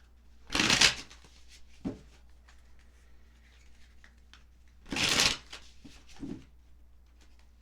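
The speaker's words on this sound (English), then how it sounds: "Those cards didn't want to be shuffled." Tarot cards are shuffled in two loud riffling bursts a few seconds apart, each followed by a soft tap as the deck settles, in a quiet room.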